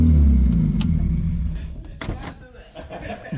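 A Toyota Corolla engine, just started and idling high, rumbles loudly at first, then fades away into a few scattered clicks and knocks.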